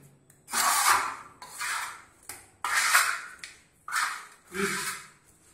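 Plastic trowel working bark-beetle decorative plaster on a wall, five separate gritty rasping strokes in a slow rhythm with short pauses between them, close and fairly quiet.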